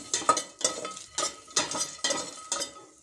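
Cumin seeds, peanuts and onions fry in a pan for a restaurant-style veg thali, heard as rhythmic stirring strokes about every half second, each a bright scraping swish over a light sizzle.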